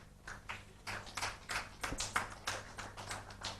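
An audience at a building industry system launch event claps quietly and unevenly. The scattered, fairly faint claps sound distant in a hall and keep up a rough rhythm for several seconds.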